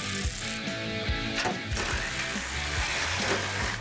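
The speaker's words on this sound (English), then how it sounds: "go ahead and tighten down your shackles and your leaf spring purchase" A hand ratchet clicks in rapid repeated strokes while leaf spring shackles are tightened down on a 1970 car, close and busy, with metallic pawl ticks running throughout.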